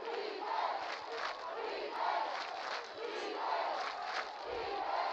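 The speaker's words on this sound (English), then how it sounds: "the crowd over from Los Fresnos making some noise already to kick things off and boost up their defense" A Los Fresnos high school football crowd in a stadium roars and chants continuously, rising and falling in rhythmic waves of massed voices at a distance.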